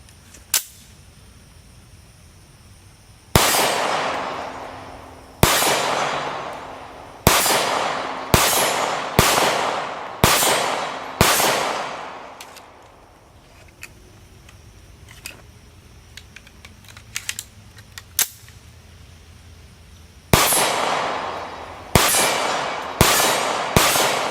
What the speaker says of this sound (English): here goes 2013 production 124 grain Winchester NATO stamped stuff, which is really, really good ammo